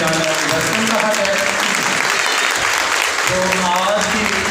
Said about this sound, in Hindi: तो मैं चाहूँगा उनको ज़ोरदार तालियों में अपने दरमियान वेलकम कहा जाए।